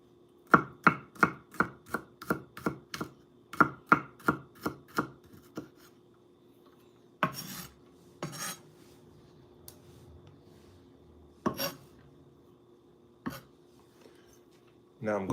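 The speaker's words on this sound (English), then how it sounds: "Now I'm going to run through with the blade to get this even finer." A knife chops garlic finely on a board, first in a quick run of about a dozen close, sharp taps, then a few scattered louder knocks and scrapes with quiet gaps between.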